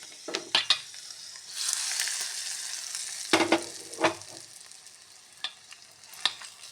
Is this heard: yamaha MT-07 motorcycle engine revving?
no